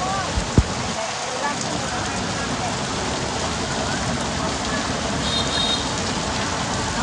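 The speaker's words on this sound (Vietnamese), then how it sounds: "Mưa quá tay luôn." Heavy rain pours onto Tô Hiến Thành street in Nha Trang, a dense, steady hiss throughout with one sharp knock near the start and faint voices beneath.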